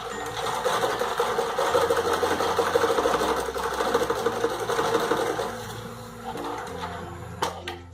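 A sewing machine stitches two joined fabric pieces for a bra, running as a loud continuous mechanical whir with a rapid needle rhythm for about six seconds, then slowing and stopping with a few clicks.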